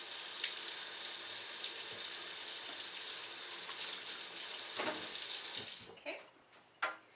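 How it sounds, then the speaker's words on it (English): Hands being washed under a running kitchen tap, a steady hiss of water that stops near the end, followed by a couple of soft knocks. "I'm washing my hands again because I had to scratch my nose."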